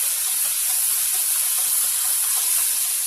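Onions fry in a pan for chicken jalfrezi, giving a continuous, loud sizzling hiss that stays even from start to finish with no voices.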